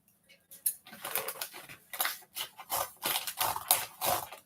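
A nail polish package is cut open with scissors, giving a close, quiet series of irregular snipping and crinkling bursts of plastic packaging, with no talk.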